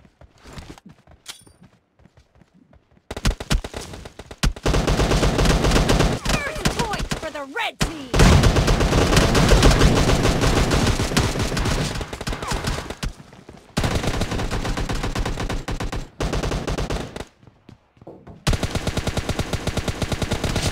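Rapid automatic gunfire in the video game PUBG Mobile during a team match, loud, dense bursts of sustained fire broken by a few brief gaps.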